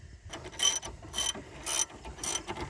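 Ratchet wrench tightening bolts on the CV axle of a 1991 Dodge Stealth, four bursts of fast, bright clicking in a steady rhythm, close and alone with no talk.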